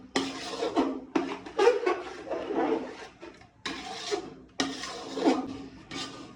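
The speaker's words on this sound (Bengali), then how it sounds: "এভাবে নেড়ে নেবো বেশি করে যেন তলায় না লেগে যায়" Fish-head muri ghonto being stirred in a cooking pot at home, giving repeated scraping and rubbing strokes in bursts with short pauses between them, close and fairly loud.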